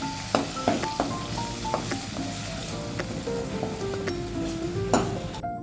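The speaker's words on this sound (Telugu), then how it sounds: "ఇప్పుడు దాంట్లో అల్లం వెల్లుల్లి పేస్ట్ వేసుకోవాలి." Ginger garlic paste sizzles in hot oil with cumin and a ground green paste for masala paneer fry, a steady close crackle broken by occasional utensil taps and stirring clinks, with no one speaking.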